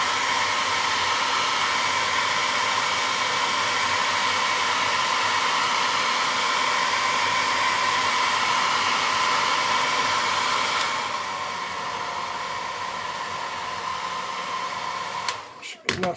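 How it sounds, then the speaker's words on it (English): A hair dryer blows steadily and loudly, heating the screen of a 4th generation iPod Touch for repair, its even whine dropping in pitch partway through before a few clicks and handling knocks at the end. "to get this off, you're going to need a hairdryer"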